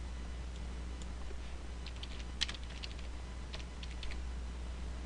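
Light typing on a computer keyboard, a scatter of faint, quick key taps over a steady background hiss and low hum, with no voices.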